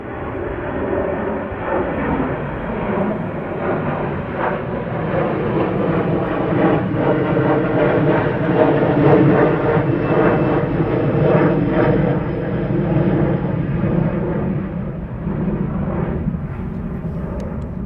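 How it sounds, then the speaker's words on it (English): Boeing 757 taxiing at East Midlands Airport at night, a loud, steady jet engine roar with a broad rumbling hiss that swells slightly mid-way and holds throughout, with no voices. "So the 757 is taxiing up."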